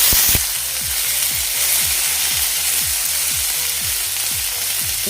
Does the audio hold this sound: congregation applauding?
no